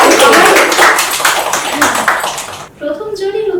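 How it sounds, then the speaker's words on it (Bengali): An audience at a couples game show claps in a loud, dense round of applause that fades near the end, with a voice talking over the closing moments. "একটা হাততালি হোক"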